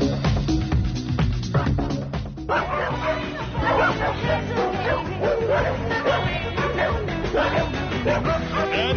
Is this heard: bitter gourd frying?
no